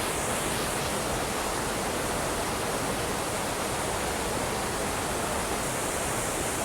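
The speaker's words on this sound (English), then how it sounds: "There we have a pretty waterfall." A waterfall at Meramec Springs State Park, Missouri, rushes with a constant, even roar of falling water, unbroken and fairly soft throughout.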